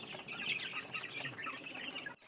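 Gamefowl chicks in a brooder box give a dense, continuous chorus of high peeping close by, ending abruptly.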